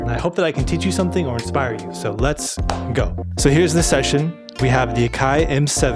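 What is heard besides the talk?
No everyday noise stands out behind the speech.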